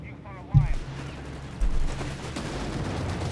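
Bren gunners firing in the World War II strategy game Company of Heroes 3, delivering sharp bursts of gunfire with a loud report near the start and another around the middle, all under continuous battle noise.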